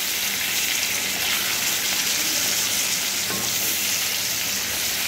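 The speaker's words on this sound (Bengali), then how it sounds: "5 মিনিট পর ঢাকনাটা খুলে এপিট ওপিট করে নাড়িয়ে দেব।" Chicken-stuffed pointed gourds fry in a pan with a steady, loud, hissing sizzle, broken once by a soft clunk as the pieces are turned.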